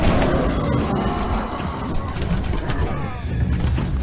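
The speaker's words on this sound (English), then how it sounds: "Have a grenade." A grenade explodes in the medieval video game Decision Medieval, a loud, dense crashing roar with rumbling debris that sustains for several seconds.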